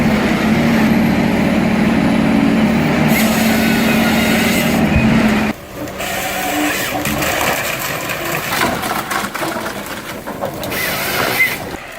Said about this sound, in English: That unique sound is just the rotator brake doing its job.